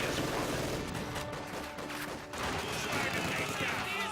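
A machine gun rattles in a strategy game battle on icy ground, continuous dense firing mixed with other battlefield noise, with a commentator talking over it throughout.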